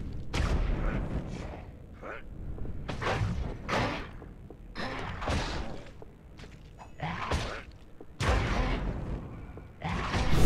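Fire thrown at enemies in Baldur's Gate: Dark Alliance 2: repeated whooshing bursts and heavy thuds come in irregular waves, loud and close, with a faint voice now and then.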